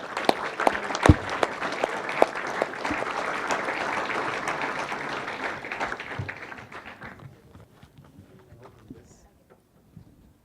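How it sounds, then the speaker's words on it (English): Audience applause at a cybersecurity competition awards presentation, dense steady clapping from a crowd for about seven seconds with a few sharp nearby claps, then thinning out and fading to scattered claps. "All right, big round of applause."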